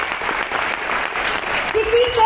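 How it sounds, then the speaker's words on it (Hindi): A hall audience applauding, a dense burst of many people clapping together, loud and close, with a voice starting to speak over the end. "तो एक बार आपके लिए जोरदार तालियां"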